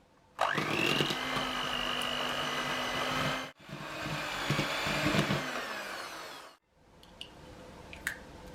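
Butter and sugar being creamed for a Victoria sponge cake with an electric mixer, a steady loud whir running for about three seconds, briefly cutting out, then resuming before stopping, with faint clicks and taps afterward.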